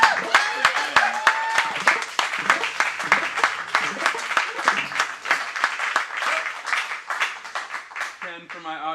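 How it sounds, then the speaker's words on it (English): Studio audience applause on a Portland talk show, steady dense clapping from a nearby crowd lasting several seconds before a voice comes in at the end. "I'd like my audience, everybody to give me a round of applause."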